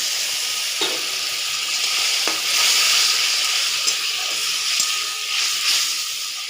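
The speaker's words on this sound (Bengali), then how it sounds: "সামান্য একটু জল দিয়ে দিচ্ছি।" Water poured into a frying pomfret and eggplant curry sets off a loud, steady hissing sizzle with bursts of steam and a few faint pan clicks, close and continuous.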